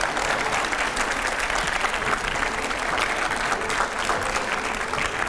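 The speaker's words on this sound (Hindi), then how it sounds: "जोरदार तालियों से स्वागत है।" A studio audience greets Union minister Meenakshi Lekhi with loud, sustained, even applause, a dense wash of clapping hands that holds steady throughout with no voices on top.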